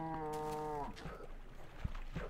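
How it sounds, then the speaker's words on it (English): A Minecraft cow gives one drawn-out, tonal moo, close and clear, before it gives way to quieter game ambience and a soft thud. "Look at all these cows."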